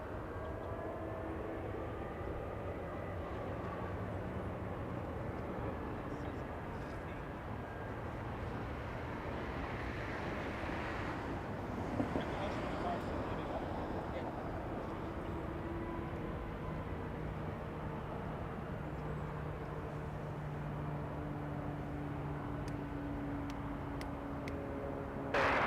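Airplanes at Los Angeles International Airport, with jets taxiing near the gates, produce a steady, loud, broadband engine roar that holds evenly throughout, with no voices.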